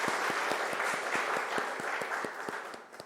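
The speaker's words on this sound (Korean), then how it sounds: "우리 박수를 한번 해보겠습니다." A church congregation claps after a baptism, a steady, moderately loud patter of many hands in a large room that thins out toward the end.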